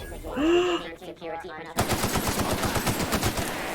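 Rapid automatic gunfire in The Outer Worlds video game, a dense burst of loud shots that follows a short stretch of someone talking.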